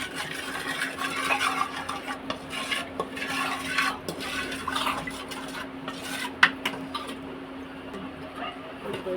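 An egg mixture seasoned with chicken masala is stirred in a bowl, with a close, continuous scraping and sloshing and light clinks of the utensil against the bowl.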